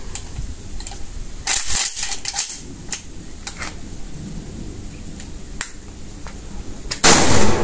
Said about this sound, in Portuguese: 2 disparos ao tempo de 20 segundos